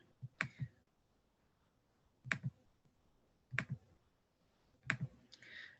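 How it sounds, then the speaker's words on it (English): Calculator buttons pressed in four short clusters of two or three quick clicks, spaced about a second or more apart, close and fairly quiet with no talking. "type that half-life number into my calculator"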